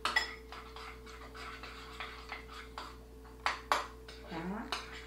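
A utensil clinks and scrapes against a bowl while mustard chicken marinade is mixed with olive oil, a quiet, irregular series of small taps and clinks under a steady low hum.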